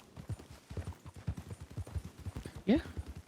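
Hooves clip-clop in a steady trotting rhythm under ongoing conversation, with a brief horse snort or whinny near the end, from a horse ridden in a video game.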